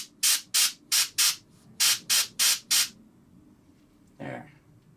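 Short sharp bursts of spray paint hissing onto a miniature model, eight quick close puffs in a brisk rhythm, followed by a brief faint voice.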